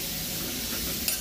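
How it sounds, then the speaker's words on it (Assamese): Dhekia fern greens frying in a pan, a steady close sizzle with light stirring and a faint clink near the end, brief and without talk. "ভাজি বস্তুটো ভাজি ভাজি ধুনীয়াকৈ ফ্ৰাই কৰি দিওঁ"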